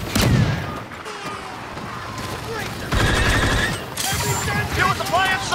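Rapid autocannon fire bursts in Star Wars Battlefront II on Starkiller Base, loud stuttering volleys with booming impacts layered over game effects and intermittent voice lines.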